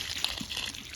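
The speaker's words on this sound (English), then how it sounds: "Got a heck of a leak here." Water leaking from a hose on a chicken waterer, a brief steady trickle and dribble with faint splashy detail.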